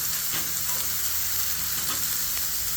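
Publix buffalo chicken tenderloins fry in hot oil with a steady, dense sizzle and crackle, a faint low hum running underneath, with no talking.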